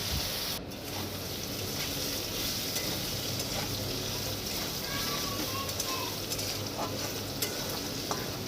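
Potatoes fry in a pan with a steady, soft sizzle and occasional stirring scrapes, close by and moderately quiet, with no one talking.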